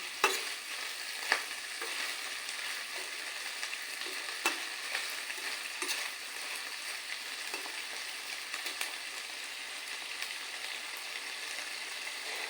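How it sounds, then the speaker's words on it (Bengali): Large prawns fry in a pan with a continuous, even hiss of hot oil and a few soft clicks of a spatula, quiet and steady throughout, with no talking. "চিংড়ি মাছগুলোকে আমি ভালো করে ভেজে"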